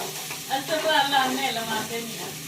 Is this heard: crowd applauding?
no